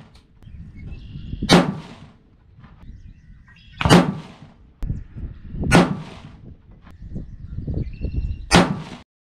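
Four loud, sharp 6.5 PRC rifle shots with 153gr Hornady A-Tip loads and H1000 powder, fired one at a time about two seconds apart, each with a short echoing decay outdoors.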